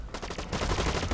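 Rapid gunfire from the shooter video game Blacklight Retribution: a few quick separate shots, then a dense automatic burst that runs on loudly and close to the end.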